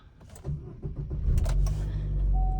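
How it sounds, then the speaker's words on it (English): A 2014 Buick Encore cranks and catches, its engine firing up near the microphone and rising into a steady idle after a few clicks and faint handling noises. "So the car starts again."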